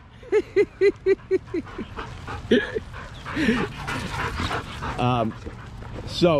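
A dog lets out a quick run of five high yipping barks, then whines and whimpers on and off, close by, while a person talks over it.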